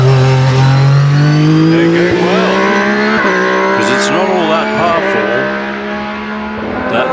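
A Pilbeam hillclimb race car with a 2-litre Rover V6 in the back roars past loud and close, its engine climbing through gears on a hillclimb course while a commentator talks over it.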